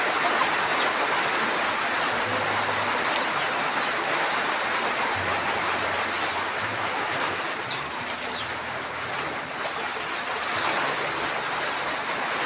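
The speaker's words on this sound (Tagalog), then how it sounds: "Ulan na gid day." Steady, dense hiss of rain falling throughout, with faint cooing of doves and low rumbles in the background, no voices.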